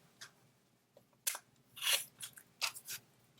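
Scissors trimming sewn quilt fabric strips along a straight-edged ruler, a handful of quiet, crisp snipping cuts spaced irregularly in an otherwise quiet room.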